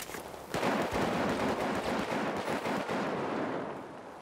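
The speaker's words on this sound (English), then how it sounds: "no idea where I just got shot at from" Dense, sustained gunfire fills a Battlefield 4 match on the Pearl Market map, loud and continuous with rapid overlapping shots and a fading tail.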